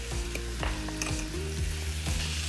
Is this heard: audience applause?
no